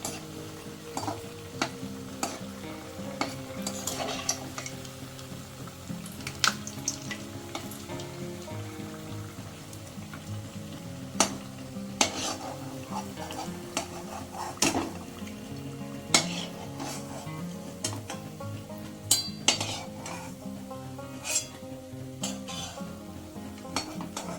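Gokul pitha frying in oil, a low continuous sizzle punctuated by sharp clinks and scrapes of a utensil against the pan, fairly quiet and close.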